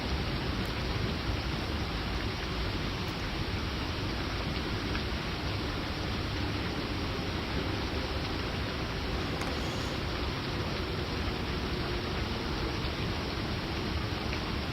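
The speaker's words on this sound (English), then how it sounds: "You wonder if this rain will ever let up." Steady, continuous rain from a Homestuck sound effect, a dense even hiss that holds at constant loudness for the whole stretch, with no voices over it.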